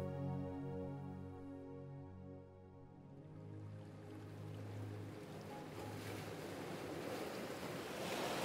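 Gentle ocean waves lap against the shore of eastern Aotearoa, New Zealand, a steady soft wash of surf that swells slightly louder toward the end, with a low droning hum underneath.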